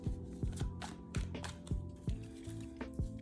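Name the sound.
side-shuffling tarot cards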